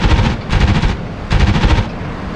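F-86 Sabre cannons fire in a Cold War air combat video game, giving two loud, rapid bursts of roughly half a second each with a short pause between, close and dense over a steady background roar.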